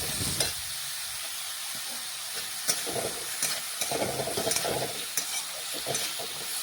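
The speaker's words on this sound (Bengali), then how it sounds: "দিয়ে ভালোভাবে সবজিগুলো একটু মিশিয়ে নিচ্ছি।" Vegetables tossed in a pan with turmeric, ginger, cumin, cinnamon and pepper paste, heard as a constant frying hiss with intermittent scraping strokes of a spoon close by.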